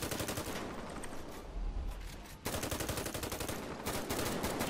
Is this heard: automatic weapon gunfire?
yes